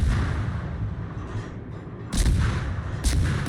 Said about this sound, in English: Taking a few preemptive shots at Kagero.